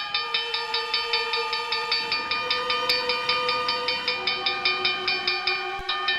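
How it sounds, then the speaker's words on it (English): A train rolls past a railroad crossing in Oklahoma under a dry southwestern sun, its steady rhythmic clatter repeating alongside a sustained tonal whistle or bell-like ring, loud and close throughout. "to let a train pass by"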